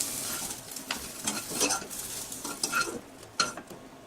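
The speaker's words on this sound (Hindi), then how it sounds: "दो मिनट के लिए सोयाबीन को हमने अच्छे से फ्राई कर लिया है।" Soya chunks sizzle in a frying pan while a spoon stirs and scrapes them, with irregular clatters of utensil against metal close up over a steady hiss.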